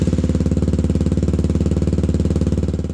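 A 2020 Benelli TNT135 motorcycle idles close by, its exhaust giving a steady, rapid, deep thumping pulse that holds an even rhythm throughout with no talking.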